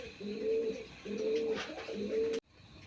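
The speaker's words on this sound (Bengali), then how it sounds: "বন্ধুরা এখানে আরেক জোড়া কবুতর আছে দেখেন" Pigeons coo close by in three repeated soft, throaty phrases, evenly spaced, ending with a sharp click.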